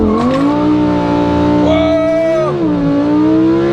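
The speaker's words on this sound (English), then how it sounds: "I'm going to put it in sport, give it a launch." A Lamborghini Huracan EVO RWD launches in sport mode with wheels spinning, its engine roaring loud and close as the revs climb, hold, dip and climb again in one continuous surge.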